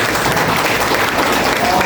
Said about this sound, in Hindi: लोग जोरदार ताली रख सकते हैं।